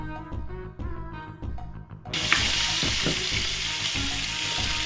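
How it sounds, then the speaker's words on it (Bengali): Pieces of rohu fish frying in hot oil, with sizzling that swells sharply about halfway through into a loud, steady hiss as more pieces go in, over faint clinks and stirring. "এখন মাছগুলোকে চলো ভেজে নিই"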